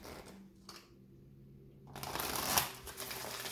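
Tarot cards shuffled by hand: a soft riffle near the start, then a quieter pause, followed by a denser burst of rustling, flicking card noise that peaks sharply midway, close and fairly quiet with no talk.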